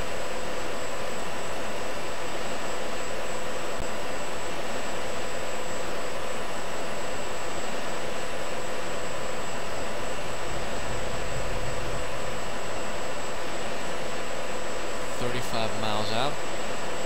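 A steady jet engine roar runs throughout in the Falcon BMS flight simulator game, with a brief sound near the end.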